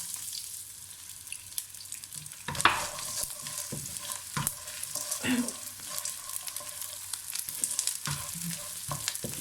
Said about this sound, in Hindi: घी गरम हो जाए, ये मैं इसमें ये गोंद डाल दूँगी।